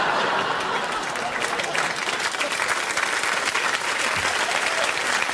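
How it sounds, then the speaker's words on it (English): Dense, steady applause from a studio audience at a televised political comedy show, many hands clapping at once in a continuous wash with faint crowd murmur underneath. "why would you clap for that?"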